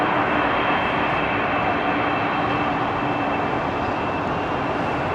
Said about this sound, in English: it's a Boeing 747 on its way out, folks